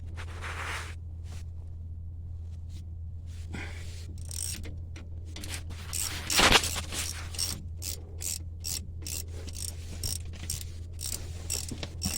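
A ratchet wrench with an 18mm socket clicks in rapid bursts as it backs out the brake caliper bolts on a 2004 GMC/Chevy 1500 pickup, close up over a steady low hum, with a louder clunk midway.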